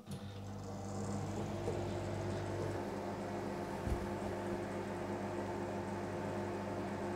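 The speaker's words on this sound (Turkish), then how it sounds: "Mikrodalga gücünü 800'e getiriyorum. Ve 1 dakika olarak ısıtacağım." An 800-watt microwave oven heating a cup of water, a steady low hum and whirring fan drone running continuously at moderate level with no talk.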